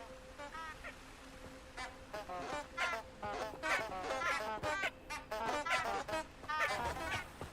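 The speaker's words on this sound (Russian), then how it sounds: "Как эти уточки маленькие" Little ducks quack repeatedly in the Hogwarts Legacy game world, a busy run of short nasal calls that is soft and slightly distant.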